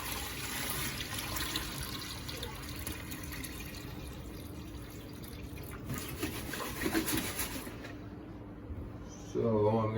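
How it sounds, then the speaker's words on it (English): Water draining and trickling from a sluicing tub set up in a kitchen, with a steady running, gurgling wash that continues for the whole stretch. "Now, drain off all this top water in here."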